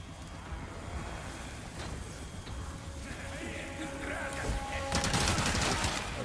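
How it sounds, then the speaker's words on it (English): Rapid submachine gun fire in Resident Evil 4 Remake, fairly quiet under game ambience and building toward a denser volley near the end, with no talk. "Maybe test out this submachine gun."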